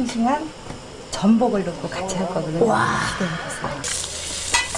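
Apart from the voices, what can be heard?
stir-frying seasoned beef with garlic in a pan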